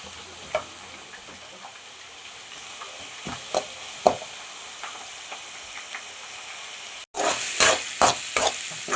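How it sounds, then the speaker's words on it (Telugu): Capsicum and curd fry in a pan for dragon chicken with a steady hiss. Sharp clicks and scrapes of stirring come at intervals, then the sizzle flares louder and brighter after a brief cut. The sounds are close and there is no talking. "ఇప్పుడు దీన్ని చక్కగా వేయించుకుందాం."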